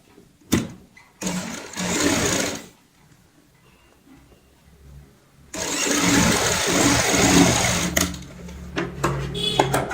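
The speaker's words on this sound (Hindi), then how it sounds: "अब हम यहाँ पे इसमें सिलाई लगाएंगे पक्का करते हुए" A sewing machine stitches a handbag in two bursts, a short run and then a longer steady one, with quiet handling noises between them and no voices.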